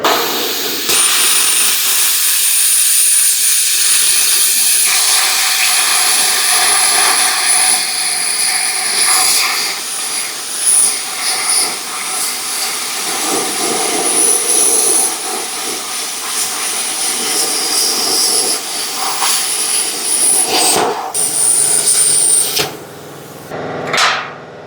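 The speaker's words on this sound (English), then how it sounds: "a grinder with a really thin wheel on it and getting a nice cut off" An angle grinder with a thin cut-off wheel slices through 1/4-inch steel. A loud, continuous, high-pitched shrieking grind holds nearly unbroken throughout, then cuts out near the end.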